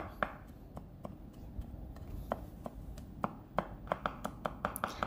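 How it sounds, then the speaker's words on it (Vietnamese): Knife blade mincing garlic on a cutting board, a stream of quick irregular chops that speed up into a steady rhythm toward the end, close and crisp. "các tép tỏi mình cũng đập cho nó dập dập rồi sau đó mình băm cho nó thật là nhuyễn"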